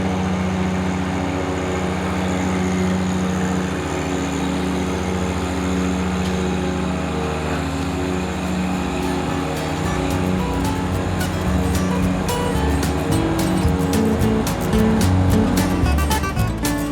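Diesel engine of a John Deere 1025R compact tractor running steadily at close range, a constant droning rumble that picks up some rattling clatter toward the end.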